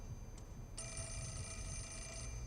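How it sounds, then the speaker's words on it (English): Telephone ringing inside the horror video game Fatal Frame: Mask of the Lunar Eclipse, a steady electronic ring sounding alone over a low ambient hum, starting with a short blip and then holding continuously. "Alright, I did hear a phone."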